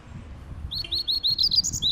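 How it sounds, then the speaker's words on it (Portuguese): Double-collared seedeater (coleiro papa-capim) singing close by, a quick series of bright repeated whistled chirps in a steady rhythm over a faint background. "Sai de chinelo de dedo com o bicho cantando."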